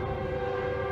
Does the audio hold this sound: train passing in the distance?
yes